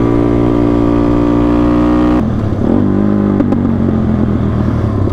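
A custom motorcycle engine runs hard at high speed on a long road ride, giving a loud, steady droning hum that shifts pitch partway through as it changes gear or throttle.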